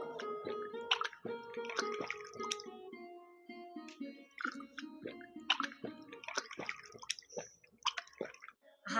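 Someone gulping water on a hot day, a sequence of soft wet swallows and slurps mixed with small squishy drips and clicks, close and quiet with gaps between sips.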